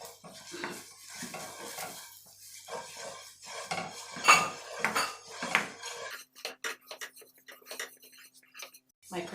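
Curry powder and thyme go into a hot pan for a chicken curry sauce, with metal clinks and scraping of a utensil against the pan, a soft sizzle underneath and a voice talking over much of it.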